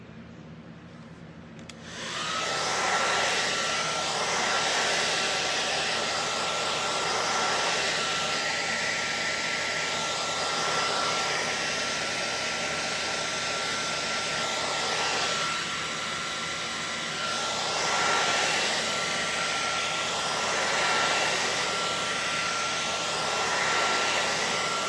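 A hair dryer switches on after about two seconds and runs steadily for over twenty seconds, blowing on fresh paint on a stenciled wood panel, its loud airy whir swelling slightly as it moves.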